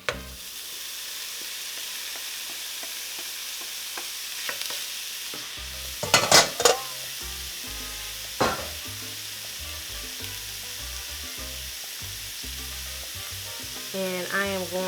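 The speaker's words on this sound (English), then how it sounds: "now I'm going to add my taco meat back to the pan" Taco meat sizzles steadily in a frying pan as it is stirred, a continuous close hiss with a few sharp spatula scrapes and clanks against the pan.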